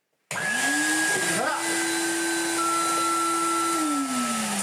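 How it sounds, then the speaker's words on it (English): Corded commercial vacuum cleaner switching on abruptly and running close and loud, a steady roaring whine with a tonal motor hum that shifts pitch slightly as it settles. "all you have to do now is do some vacuuming"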